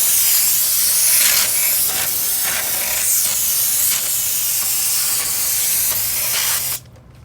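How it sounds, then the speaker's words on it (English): AutoZone aerosol brake cleaner sprayed onto a car's brake rotor, a loud close continuous hiss lasting several seconds before cutting off abruptly. "I'm going to clean out the rotor a little bit. I got something to catch the cleaner with, just regular old AutoZone brake on."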